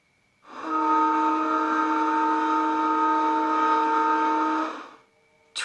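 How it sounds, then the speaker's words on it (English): A train whistle sounds as one long, steady, loud blast lasting about four seconds, alone with no other noise around it. "Train,"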